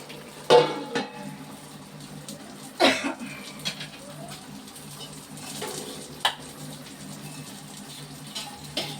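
A lid set onto a cooking pan in a home kitchen after coriander is added: a few separate sharp metallic clanks spaced several seconds apart over a quiet background with faint bird calls.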